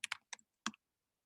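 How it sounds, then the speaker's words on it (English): A few quick keystrokes on a computer keyboard, soft clicks in a short burst followed by a pause and one more tap, faint in a quiet room. "And as he's typing"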